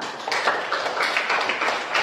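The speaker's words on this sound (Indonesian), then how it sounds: "beri tepuk tangan untuk kelompok kelima" Classroom students applauding the fifth presenting group, a dense steady patter of many hands clapping at moderate level for about two seconds, with a faint voice underneath.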